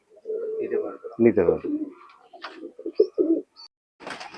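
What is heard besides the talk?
pigeons cooing, Pakistani pigeons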